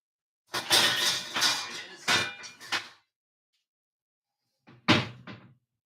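Kitchen utensils clatter and knock as someone rummages for a wire spider strainer before wok frying, a burst of rattling and banging for about two seconds, then a pause and one more short clank.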